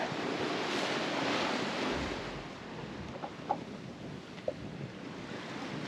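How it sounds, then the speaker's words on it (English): Ocean waves on the open Pacific wash and rush steadily close by, heard at sea from a boat, mixed with wind buffeting the microphone and a few faint knocks. "Just watching waves."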